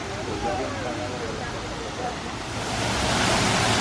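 Waterfall at Otter Grotto in Disney's Animal Kingdom, a steady broadband rush of falling water heard up close, swelling louder toward the end.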